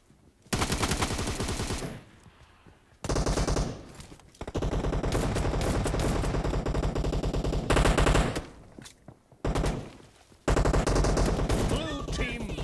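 Rapid bursts of S12K shotgun fire in PUBG Mobile during a team match, several loud clustered volleys separated by short gaps, close and dominant with no talk.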